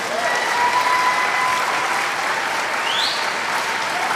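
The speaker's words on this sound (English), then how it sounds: "Give myself a round of applause" Steady applause from a group of people gathered for a casual podcast recording, loud and continuous throughout with no pauses, filling the whole stretch with a dense wash of clapping.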